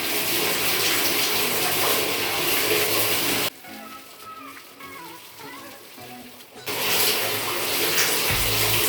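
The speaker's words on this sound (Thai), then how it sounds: "อาจจะได้ยินเสียงน้ำนะคะ" Tap water runs loudly and steadily while a face is washed with makeup being removed, stopping briefly for a few seconds of quieter splashing before the rush of water resumes.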